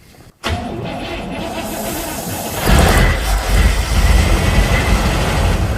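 A Cadillac engine cranks and catches, then keeps running roughly with a loud, uneven idle, close by.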